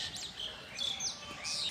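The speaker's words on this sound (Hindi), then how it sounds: "हमेशा यहाँ पे चिड़िया की आवाज़ आती रहती है ऐसे" Small birds chirp outdoors on a mild, slightly misty winter day: faint, high, intermittent tweets repeating every half second or so over quiet background noise.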